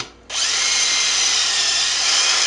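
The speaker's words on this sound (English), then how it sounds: "So I'm going to drill another hole right here." A power drill bores a hole in walnut for a turned lidded box, starting abruptly after a quiet moment and then whining loudly and steadily at close range.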